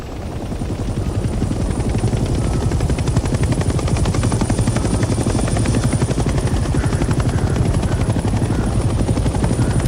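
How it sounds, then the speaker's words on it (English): A transport helicopter in the video game Hell Let Loose Vietnam thumps rapidly and loudly, rising from start-up into a steady, close, continuous rotor chop as it takes off. "The helicopter will now take off automatically and remain in a hover state."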